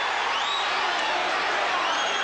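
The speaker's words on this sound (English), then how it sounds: "this crowd is revved up" Boxing arena crowd at the opening of round 3 of a heavyweight fight, a sustained loud roar of cheering and whooping filling the whole moment without pause.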